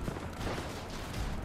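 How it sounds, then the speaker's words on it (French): Gunfire in a woodland battle in a video game, a dense, muffled burst of overlapping shots and rumbling booms, steady and continuous with no talk. "Les coups de feu se multiplient, et c'est une véritable bataille dans laquelle finalement on se touche peu."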